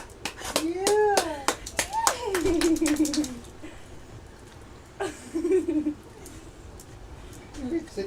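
A baby boy claps his hands in a quick burst of sharp claps, then a few scattered claps, close by, while adults talk and laugh.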